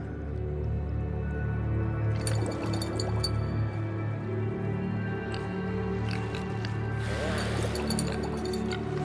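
Serum drips and squishes into a mixing vessel during brewing in Elder Scrolls Online, a few soft wet drops and splashes over a steady game background hum, with a brief louder burst near the end.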